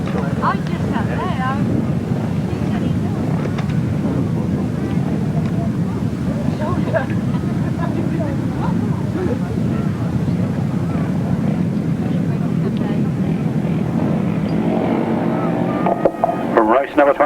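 500cc sidecar motorcycles racing at a 1993 grasstrack meeting in Sherfield English give a continuous, loud engine roar. Wind buffets the microphone, and an announcer talks over the racing.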